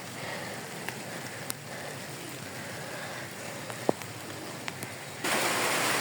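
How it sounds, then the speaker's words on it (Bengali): Heavy rain falling outdoors, a steady broadband patter on surfaces with occasional louder drips, growing noticeably louder and denser near the end. "তো দেখেন জোরে বৃষ্টি হচ্ছে"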